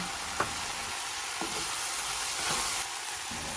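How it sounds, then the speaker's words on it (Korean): Sweet pumpkin and celery stir-frying in a pan give a steady, close sizzle with a few soft scrapes of stirring, no voices. "단호박과 샐러리를 넣고 한데 어우러지게 볶으시다가 소금을 넣어주세요."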